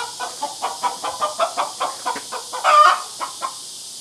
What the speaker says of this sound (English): That is the noisiest chicken right there.